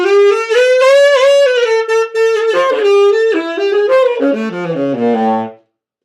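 Saxophone played with the mouthpiece pushed far out on the neck and the reed bitten to pull pitch up, a short phrase of sustained, bright notes that slides downward and fades away, played alone.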